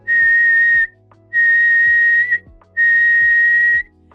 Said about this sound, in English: I would whistle and I'll be like